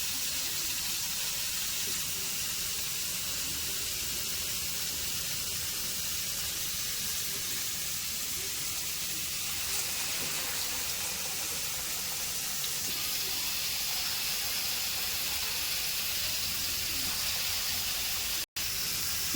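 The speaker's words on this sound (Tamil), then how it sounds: "எண்ணெய் சூடாச்சு புடைய போட்டு எடுத்துக்கோங்க." Urad dal vada batter frying in hot oil, a steady broad hiss and sizzle that holds evenly throughout, with a single sharp click near the end.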